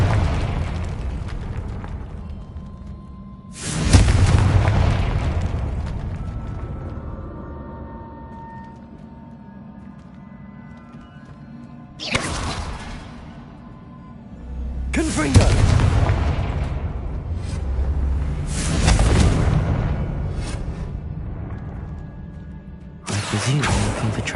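Repeated Confringo fire spells from Hogwarts Legacy burst in loud explosive booms. Several blasts go off at irregular intervals across the stretch, and each leaves a rumbling decay before the next one hits.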